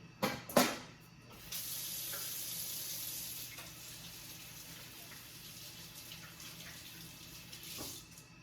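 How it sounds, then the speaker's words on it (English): Water runs from a sink tap as hands are washed, opening with a few louder splashes and clunks, then settling into a soft, steady stream with small splashes until the end. "Let me wash my hands really quickly."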